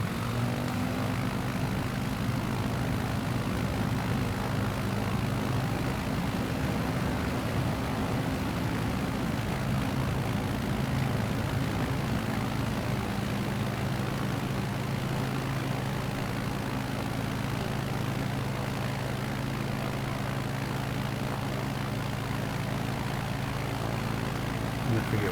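A propeller aircraft engine in Microsoft Flight Simulator 2020 on a Nevada bush trip drones loud and steady throughout, a constant close roar with a low throbbing hum that eases slightly partway through.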